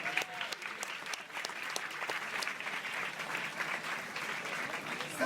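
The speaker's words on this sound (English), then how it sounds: "Give Tanua a real rousing applause, please" An audience at a church plaza grand opening claps in a steady, sustained round of applause, dense and moderately distant.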